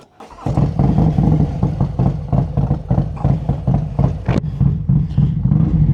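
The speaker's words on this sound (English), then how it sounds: "listen to this exhaust, man. It is bananas" A cammed and tuned 2025 Harley-Davidson Road Glide motorcycle starts up, then its loud exhaust barks and rumbles close by with repeated throttle blips and pulsing revs.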